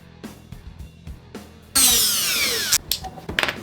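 A power drill grinds detail off a hand-made figure, with a loud, harsh, sustained burst of grinding under quieter workshop handling noises, then several shorter stops and restarts.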